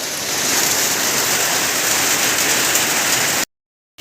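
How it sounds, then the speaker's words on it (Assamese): Heavy rain pours steadily near Bogibeel bridge, a dense, loud, continuous hiss of drops on surfaces that stops abruptly just before the end. "পুৰা বৰষুণ দি আছে, ধামাকা।"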